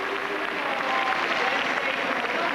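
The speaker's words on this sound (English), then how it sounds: "The crowd really appreciating that one." Arena crowd applauding a dynamic vault at a 1997 Europe vs Asia gymnastics competition, steady distant clapping and crowd noise filling the whole moment at moderate level.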